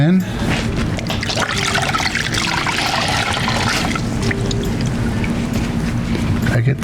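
Rinse water pours steadily over an electric grill plate, a continuous close splashing and trickling that runs unbroken the whole time.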